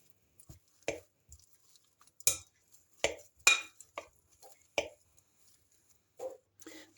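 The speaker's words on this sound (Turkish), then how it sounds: "Bakın şöyle eziyorum patatesleri." Boiled, peeled potatoes with a spoonful of tomato paste being mashed in a bowl: sparse soft squishing presses and utensil taps against the bowl, irregular and fairly quiet with gaps of silence.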